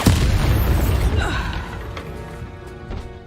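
A Bombarda spell explosion in the video game Hogwarts Legacy: a loud, deep boom bursts at the start, then rumbles and crumbles away over about three seconds, with a smaller thud near the end.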